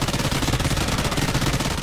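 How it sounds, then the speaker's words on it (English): Death Machine minigun in Call of Duty: Ghosts Chaos Mode firing a steady, dense, continuous burst of rapid gunfire at constant loudness, with no pauses. "let's get this death machine out"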